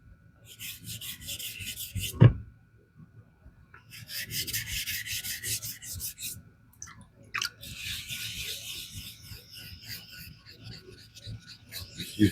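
A 14c28n steel knife blade is drawn across a 4K whetstone in short bursts of close, dry rasping strokes, separated by pauses and a sharp knock.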